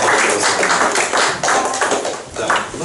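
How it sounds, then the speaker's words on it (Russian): Warm applause from a church congregation during a service, a steady dense patter of many hands clapping throughout at close-to-moderate distance. "Давайте Господу поблагодарим теплым аплодисментом"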